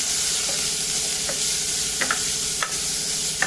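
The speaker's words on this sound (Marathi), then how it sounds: "कोबी, हिरवा वाटाणा छानाचं परतून घ्यायचं." Carrot, cabbage and green peas sauté in a pan for jowar soup, a constant loud sizzle with light stirring clicks of a spoon against the pan.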